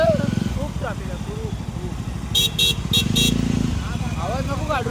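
Heavy street traffic with motorcycles and cars rumbling close by, and a few short horn toots partway through, all under near-constant talking.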